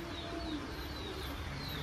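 Soft pigeon cooing, low and murmuring, continuing steadily over faint background noise, with a few thin chirps higher up.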